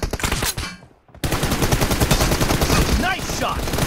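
Gunfire in the mobile battle-royale game PUBG Mobile Lite, with dense rapid automatic bursts that break off for a moment and then resume, loud and close, mixed with game sounds.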